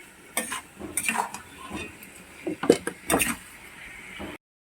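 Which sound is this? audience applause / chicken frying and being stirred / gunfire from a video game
chicken frying and being stirred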